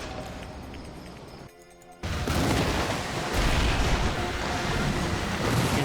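Loud, dense in-game explosions and artillery-like blasts from a Red Alert 3 real-time strategy battle as a bomber drops its remaining bombs, a brief dip then a sustained roar of booms with no speech.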